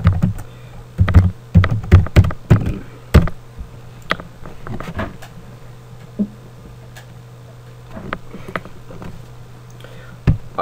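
Keys clatter on a laptop or PC keyboard in quick bursts of clicks, close and fairly loud at first, then thinning to scattered taps with quiet room tone between them.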